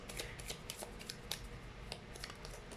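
A deck of tarot cards being shuffled by hand, with soft riffling flutters and a few sharper card slaps, close and quiet.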